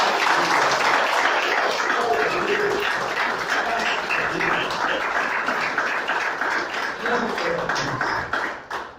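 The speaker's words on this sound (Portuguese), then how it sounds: "Pode aplaudir, glorificar o Senhor" A church congregation claps together after a sermon's call to praise, a dense, loud, sustained wash of applause filling the room, with a few voices calling out beneath it.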